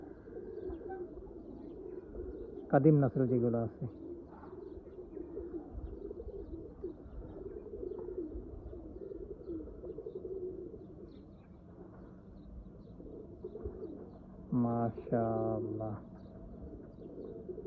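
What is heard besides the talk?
Oman Teddy pigeons cooing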